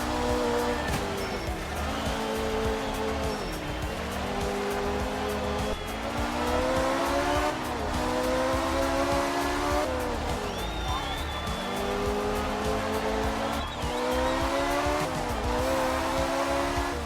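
A car's engine revs up and down through repeated cycles while its tyres squeal as it slides through turns. The sound is loud and continuous throughout, with rising and falling engine pitch.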